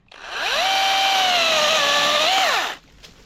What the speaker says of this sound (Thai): ดี๋ยวเราลองดูความเร็วของเลื่อยโซมินินะครับในการตัดกิ่งเดียวกันนี่แหละนะครับ